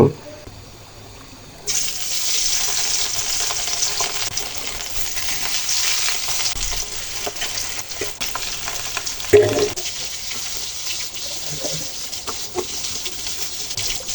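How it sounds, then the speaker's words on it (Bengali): Grass carp pieces go one by one into hot soybean oil in a wok on a stove, and a dense, close sizzle rises suddenly after a quiet start and continues steadily, with a voice speaking over it. "আমার যে চুলার কড়াইয়ের তেলটা একদম গরম হয়ে গেছে মাছগুলো এক এক করে ভেজে নেব"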